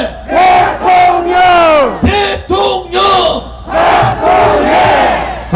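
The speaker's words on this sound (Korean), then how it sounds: "여러분 다 같이 함성 질러봅시다" A large rally crowd chants a name together in loud, rhythmic unison, several bellowed repetitions close and strong with brief gaps between them.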